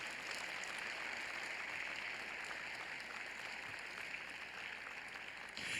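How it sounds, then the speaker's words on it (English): An audience at a public memorial applauds steadily, a dense, even wash of clapping heard from a moderate distance that continues throughout. "Come on, let's give him another round of applause"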